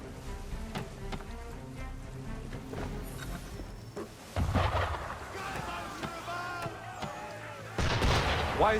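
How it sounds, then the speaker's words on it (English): Cannon fire from Assassin's Creed III pounds toward a ship, heavy booming blasts that grow louder midway, with a big close impact near the end over low rumbling ambience. "Why is he shooting at us?"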